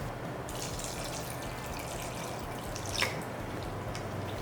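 Grated potato being rinsed in a bowl of water in a home kitchen, a soft steady wash of water with a few light drips and one brief splash partway through, with no voices.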